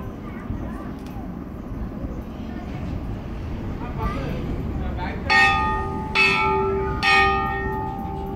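A metal temple bell is struck three times at a Shiva temple in Kolhapur, each strike ringing out loud and close over a murmur of voices and crowd noise.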